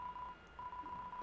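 Phone dialing tones in the video game Deltarune Chapter 2, a few short clear beeps in a quick uneven sequence over a quiet background hum, with no talking.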